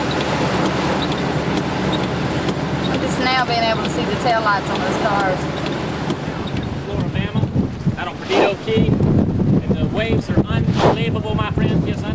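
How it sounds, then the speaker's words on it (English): Strong wind buffets the microphone with a roaring rumble outside the Flora-Bama Lounge, waves and water movement mixed in, while voices talk intermittently. "it was quite windy"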